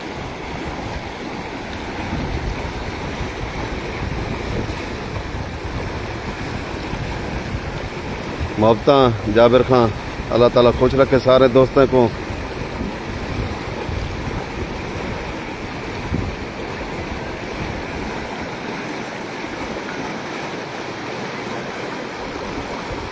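Fresh hill-torrent floodwater rushing after rain in the Koh-e-Sulaiman range, a steady broad roar of running water throughout, with someone speaking over it for a few seconds midway.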